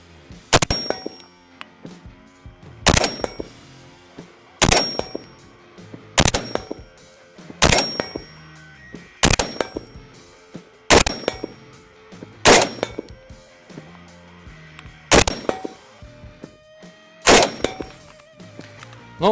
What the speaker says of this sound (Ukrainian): я вперше в житті стріляю із автомата FN Scar